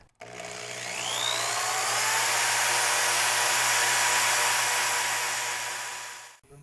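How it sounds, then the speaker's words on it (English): A sanding pad whirs against a 3D-printed spinner on a spinning lathe, a steady high-pitched hiss that rises, holds for several seconds, then cuts off. "Next, I'll do the sanding pad."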